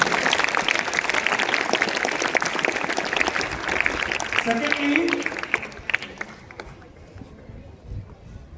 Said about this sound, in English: So let us give them a big round of applause for that.